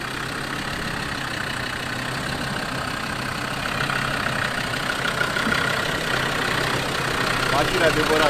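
A car engine idles steadily with no revving, a low continuous rumble running throughout at moderate loudness, with some background noise and voices around it.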